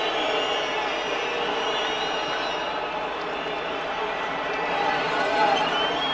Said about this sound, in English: the boos are going around the ground